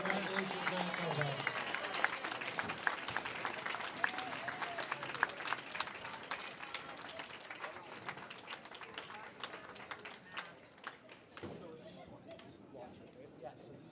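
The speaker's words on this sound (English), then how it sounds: "Big round of applause." A crowd at a youth challenge nationals medal ceremony applauds the silver medalist from Manitoba, with steady clapping from many hands at moderate distance that thins out toward the end while people talk over it.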